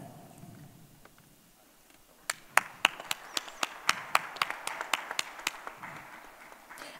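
Sparse, sharp handclaps from a conference audience in a Dubai hotel hall, starting after a quiet murmur and quickening into a steady run of individual claps, moderately close with light room echo.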